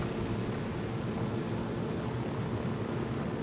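Aircraft engine drone in the video game Ghost Recon Wildlands, a steady, loud, unbroken propeller roar with a noisy hiss and no pitch change.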